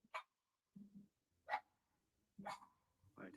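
A dog barks in a house in short separate bursts, four or five sharp yaps with quiet gaps between them, fairly close and alone with no talk.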